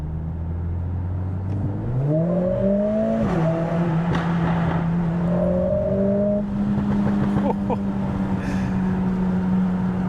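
A loud modified Mercedes CLA45 S revs in a short tunnel, its exhaust note rising and falling with sharp pops and crackles echoing off the walls, close to the microphone.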